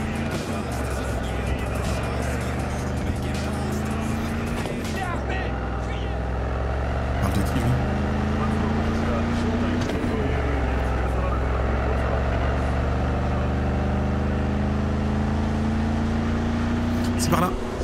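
A motorcycle engine drones loudly and continuously while riding in Cyberpunk, its pitch rising and falling through repeated gear shifts, with someone talking over it.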